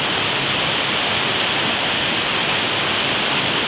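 A waterfall roars as a loud, dense, unbroken rush of falling water, close by and steady, with no other sounds cutting through.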